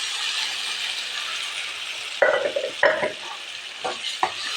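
Boiled green gram stirred into bottle gourd frying in a pan, with a constant loud sizzle and several distinct scraping strokes of a spoon against the pan.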